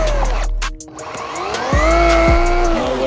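A Traxxas Maxx Slash RC car on stock tires drives uphill with a high, shifting electric motor whine, loud and close, the pitch rising and falling as it strains.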